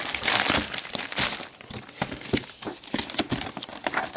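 Plastic wrapping crinkles and rustles in close, irregular bursts as a parcel holding a football sticker album for the English league is opened, with no talking over it.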